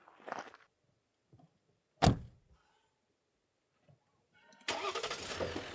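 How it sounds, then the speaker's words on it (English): Jeep engine cranking and catching, with a sharp door-like clunk midway, then a steady mid-pitched engine rumble as the vehicle pulls away at a Utah campsite with a rooftop tent open. "We'll drive with the tent open."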